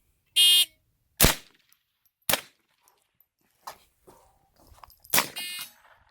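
A Smith & Wesson 1522 rifle fires four sharp, close shots in a quick timed drill, spaced roughly a second or more apart. A shot timer beeps loudly at the start and again near the end.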